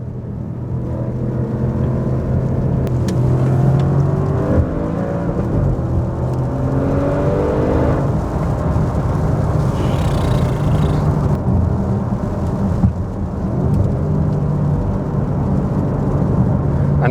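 An Audi RS6 C7 held in manual mode, its engine revving hard below five thousand rpm, a loud close rumble rising and falling through several pulls and gear changes with a racy, throaty whir and no talking.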